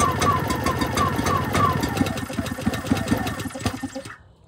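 A Powersmart 1500 watt inverter gas generator runs just after one pull with the choke on, its small engine chattering in a rapid, loud, close rhythm before cutting out near the end.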